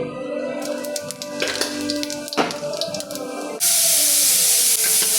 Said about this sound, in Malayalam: വെളിച്ചെണ്ണ ഏകദേശം ചൂടായി വരുന്നുണ്ട് ഒരു കുറച്ച് പെരിഞ്ചീരകവും കുറച്ച് ഉലുവ ആഡ് ചെയ്യണം